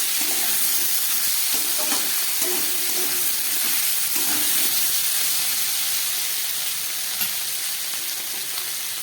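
About a spoonful of ginger and green chili paste fries in hot oil in a pan for a vegetarian bean dish, a loud continuous sizzle and hiss close by, broken by light scraping as it is stirred.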